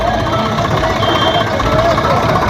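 Steady engine rumble and idling drone throughout, continuous and fairly loud, like several heavy tractor engines running nearby, from long lines of tractors stretching for kilometres at a tractor rally.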